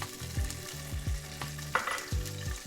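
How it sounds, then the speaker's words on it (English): Onions fry in a small amount of oil in a pan, a steady close sizzle broken by repeated scraping stirs and clatters of a utensil against the pan, with no voices. "we're gonna cook up some onions"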